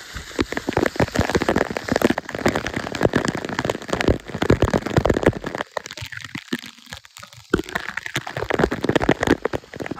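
Steady rain pours down on a monsoon trek to Rangana Fort, a dense, continuous hiss with sharp drop spatters throughout, briefly thinning for a moment before returning at full strength.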